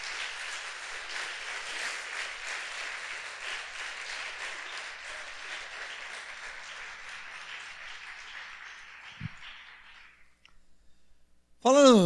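A church congregation applauds in a steady, dense wash of clapping for about ten seconds, then it fades out, leaving near silence before a short burst of sound at the very end.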